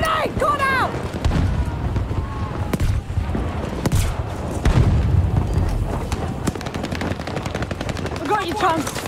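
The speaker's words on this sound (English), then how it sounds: "Grenade!" In a video game battle, a grenade blast booms amid bursts of gunfire and machine-gun fire, with shouted voices and radio chatter layered over the loud, busy combat throughout.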